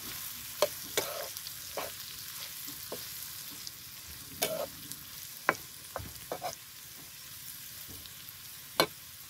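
Spatula scrapes and stirs through taro-leaf vegetables frying in a pan, a steady low sizzle under scattered sharp clacks of utensil against metal, close and moderately loud, with no talking.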